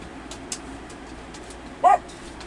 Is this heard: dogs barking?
yes